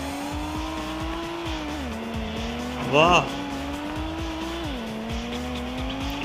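Race car drifting in the video game Reckless Getaway 2: a steady engine drone with a sharp tire squeal burst midway, under an excited voice.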